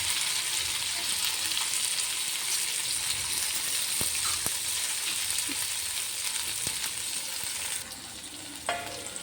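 Sliced bitter gourd sautéing in hot oil in a pan, a steady close sizzle and frying hiss with a few light stirring clicks, quieting slightly near the end.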